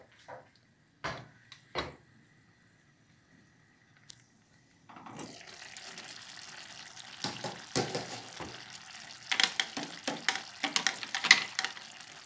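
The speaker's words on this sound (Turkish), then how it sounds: "Çorbamız kaynarken sizlerle beraber şöyle bir fasulyemizi de karıştıralım." Beans stir-frying in a pan for a tomato bean dish: after a few quiet clinks, a steady soft sizzle begins, broken by scraping stir strokes that grow louder toward the end, with no talk.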